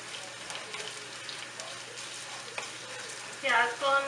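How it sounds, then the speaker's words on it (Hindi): Onions are dropped into hot oil for nihari, giving a steady close sizzle and frying crackle that swells sharply near the end as they hit the pan. "हमारा तेल जो है ये गर्म हो गया। अब हम इसमें प्याज डाल देते हैं।"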